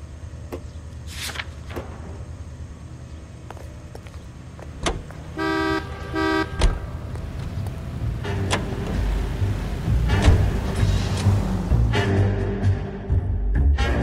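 A car is driven through a 1940s Los Angeles street in L.A. Noire, a low engine rumble building steadily beneath scattered clicks, short horn toots and passing street noises, with no talk.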